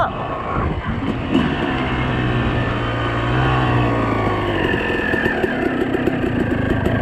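A 2006 Suzuki RM250 two-stroke motocross bike in a custom frame-up build sits idling, a loud, close, steady engine drone with a faint low hum and slight fluctuation throughout, alone without talk.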